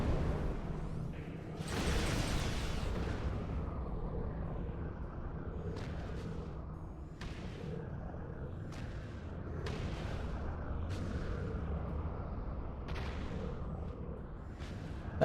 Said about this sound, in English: Cannon weapons.